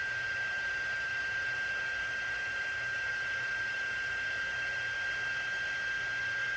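An embossing heat tool blows hot air over embossing powder in a card-making class, giving a faint, steady airy whoosh with a thin constant whine throughout.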